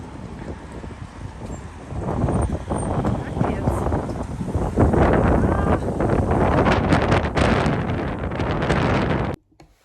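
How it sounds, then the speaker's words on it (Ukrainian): Loud, blustery wind in Zakopane, Poland buffets the microphone in surging gusts, roaring and rumbling for several seconds before cutting off abruptly at the end. "Дуже-дуже рідко в Закопаному іменно це такий поривчастий вітер."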